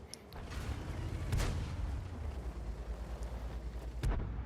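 Tank cannon shots from a tank battle video game boom out twice, a heavy blast near the start and another near the end, over a constant low engine rumble, with no speech.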